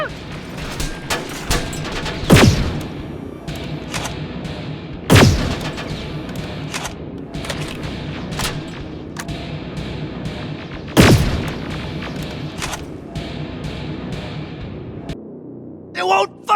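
Heavy weapon fire in the shooter game Terminator Resistance, with three loud booming shots spaced a few seconds apart over a continuous dense layer of gunfire and battle noise, with voices mixed in.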